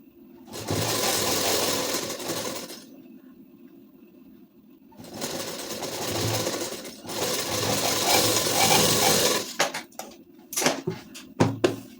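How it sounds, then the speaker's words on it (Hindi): A sewing machine running a seam along the sleeve of a size-34 ladies suit, two sustained loud close bursts of rapid stitching separated by a pause, ending in short choppy runs. "इसी निशान पर से सिलाई चलाएंगे।"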